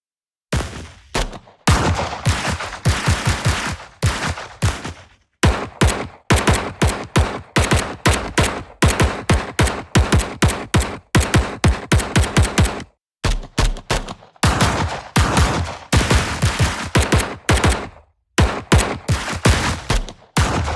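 Gunfire sound effects from the Evolution Devastator Warzone sound library play as loud, close bursts of rapid automatic shots in repeated volleys separated by brief silences.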